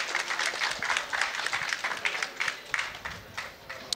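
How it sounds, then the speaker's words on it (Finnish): A crowd at a Finnish MMA championship event claps for the fight winners, a dense patter of hand claps with uneven bursts over continuous crowd noise. "Vielä kerran aplodit voittajille."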